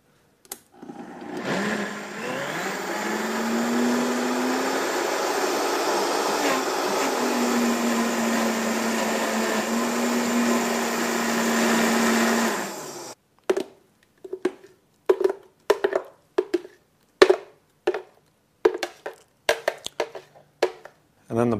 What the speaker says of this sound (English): let's do some more blender action